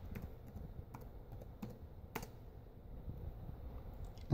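Someone types on a computer keyboard, a fairly faint, irregular stream of soft key clicks with a few sharper taps, close by and with no talking.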